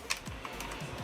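A few crisp, clicky keystrokes on a Rosewill Striker gaming keyboard with tactile blue switches, close up and fairly quiet with uneven spacing.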